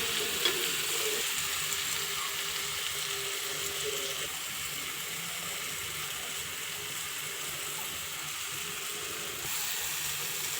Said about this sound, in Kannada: ಇಂಚ ಫ್ರೈ ಮಲ್ತೆ